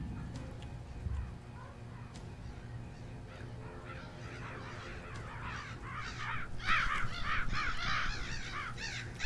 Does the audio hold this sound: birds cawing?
yes